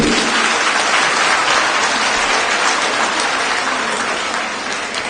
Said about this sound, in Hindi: लेकिन सबसे पहले मंचासीन सभी नेत्रियों के लिए जोरदार ताली बजाइए।